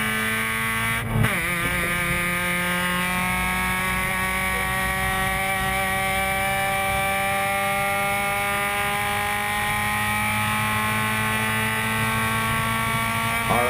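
Race cars coming around a track, a loud continuous engine drone whose pitch shifts slowly as they pass, no talk over it.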